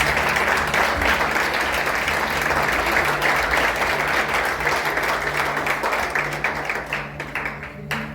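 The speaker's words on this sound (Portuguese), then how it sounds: "Vamos colocar em pé, por favor, aplaudindo ao Senhor." A church congregation on its feet applauds during a Sunday-style worship service, with dense, steady clapping filling the room throughout and thinning out slightly toward the end.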